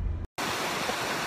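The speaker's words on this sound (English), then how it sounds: "with my waterfall behind me" A waterfall rushes as a steady, dense broadband roar close by, briefly cut to silence for a moment before resuming, with no talking over it.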